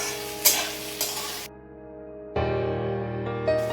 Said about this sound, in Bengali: তো আমি পেঁয়াজগুলোকে লাল করে ভেজে নেব।